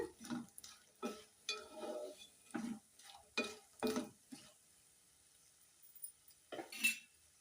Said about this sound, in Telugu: ఇప్పుడు మనకు రొయ్యలు అయితే ఎర్రగా వేగిపోయాయి